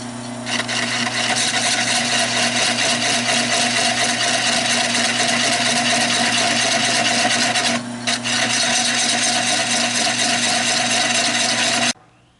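An oak bowl spinning on a wood lathe gives a steady, loud rasping and scraping that runs continuously with a sustained mechanical hum beneath it, breaking off for a brief moment partway through before carrying on to a sudden stop.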